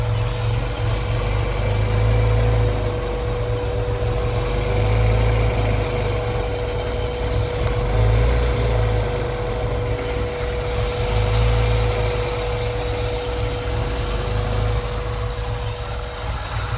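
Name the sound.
1992 Honda Civic engine idling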